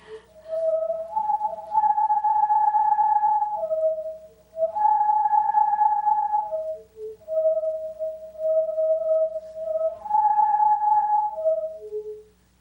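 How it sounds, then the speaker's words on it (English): A whirled tube sings in airy, flute-like tones, stepping between a few distinct pitches in sustained swells that rise and fade over several seconds. "fool around with that sound tube and see what kind of sound he can get from it"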